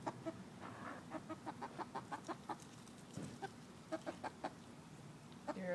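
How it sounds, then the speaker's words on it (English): A red hen clucks steadily up close, a run of short soft clucks in an uneven rhythm, with low background noise and a few louder calls near the end. "You're a very nice red chicken."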